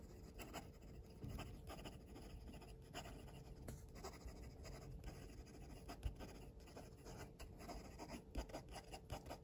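Stainless steel Gravitas Sentry fountain pen writing quickly on paper, a close, faint, continuous scratchy rasp of nib strokes with short pauses between words, no talk.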